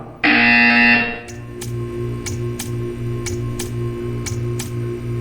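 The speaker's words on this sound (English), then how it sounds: "When you hear the buzzer, stare at the art." A loud, steady electronic buzzer blares for under a second in the video game Portal 2, followed by a regular ticking pulse with a low hum repeating steadily to the end.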